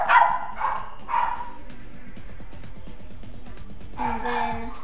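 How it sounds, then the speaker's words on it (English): A dog barks close by indoors in a few sharp bursts, then whimpers and yips faintly before barking again loudly near the end. "my dog is barking at something"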